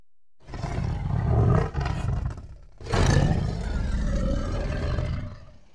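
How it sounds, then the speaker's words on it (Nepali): A tiger roars on a road near Sipaghat on the way to Melamchi, two loud, rough, drawn-out roars in quick succession, close by with nothing else heard. "हेरौं त्यो बाघ"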